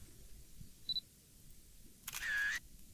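Camera sound effect from the CapCut editor: a faint short beep followed by a crisp shutter click with a brief whirring tone, heard alone over low background hiss.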